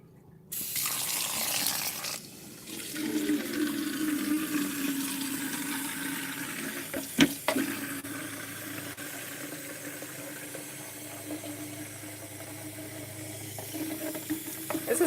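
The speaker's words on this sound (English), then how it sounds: "let me fill up my thing of water" Water runs steadily from a tap into a container, a continuous close hiss with a brief clunk partway through.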